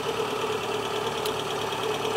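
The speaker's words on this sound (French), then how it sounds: "Le moteur." A Peugeot 205 with its original TU engine, converted from carburettor to turbo, runs at a steady idle with an even, slightly knocking hum, close and continuous.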